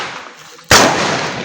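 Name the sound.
plastic carbide gun firing with a bang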